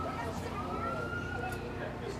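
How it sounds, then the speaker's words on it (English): Emergency vehicle sirens wail outside, faint and distant, one rising tone drifting over a steady bed of background noise. "Hearing more sirens."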